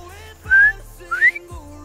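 A person whistles an imitation of a bobwhite quail call: two loud, rising whistled notes about half a second apart, clear and close with no talking.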